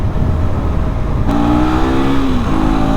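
A 2024 KTM Duke 250 single-cylinder engine idles roughly, then revs up sharply midway and holds a loud, slightly uneven note, close and alone.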